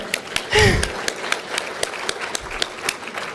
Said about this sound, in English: let's give a big round of applause to these organizations